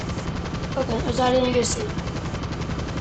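Avenger VTOL aircraft in the GTA V video game, its engine a steady loud roaring drone with rapid pulsing, running throughout under a man's speech.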